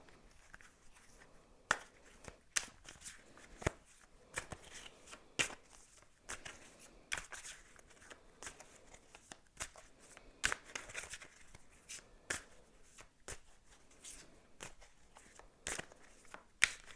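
Tarot cards are shuffled by hand, giving quiet, irregular riffles and sharp flicks of card edges, with scattered snaps that repeat close by throughout.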